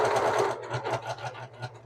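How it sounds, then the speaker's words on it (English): Serger sewing machine stitching at top speed with the foot pedal pressed to the floor, a steady rapid mechanical whirr with pulsing stitch rhythm that eases off slightly toward the end, close and alone. "And that was the top speed on this serger. I had it all the way to the floor."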